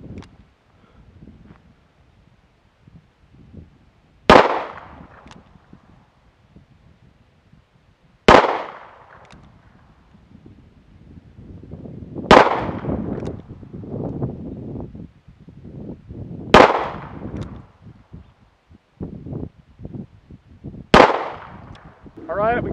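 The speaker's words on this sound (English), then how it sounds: "I'm going to shoot the 38 with the 110" A Ruger SP101 .357 Magnum revolver fires five single-action shots of .38 rounds, 110 grain, sharp loud cracks spaced roughly four seconds apart outdoors, with wind and handling noise between.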